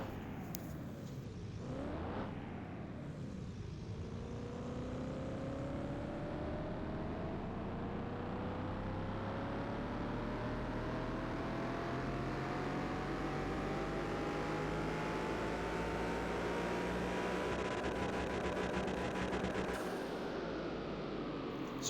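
A tuned, stage 3 ECU car engine in Car Mechanic Simulator 2021 climbs steadily on a dyno, its droning pitch rising smoothly through a long sustained rev before cutting off near the end.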